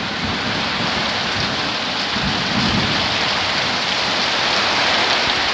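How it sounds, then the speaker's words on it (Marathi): Torrential Konkan monsoon downpour roars in a loud, unbroken wash, with low thunder rumbling underneath through the middle of the stretch. "तर अशा प्रकारे मुसळधार प्रकारे पाऊस पडतोय."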